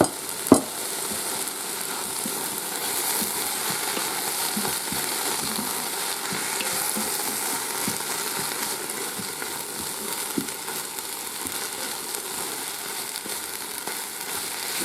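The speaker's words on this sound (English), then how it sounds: "Dump all of that in there. And we're just gonna mix it all around." Fried rice ingredients are stirred in a Ninja Foodi pot on sear mode, with a continuous close sizzle and scattered scraping stirs, plus one sharp knock near the start.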